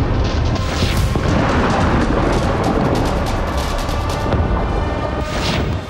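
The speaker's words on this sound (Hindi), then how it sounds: "विस्फोट पर विस्फोट होते गए।" Explosions from airstrikes on Lebanon rumble and boom in a dense, continuous roar. Repeated heavy blasts overlap with no quiet gaps between them.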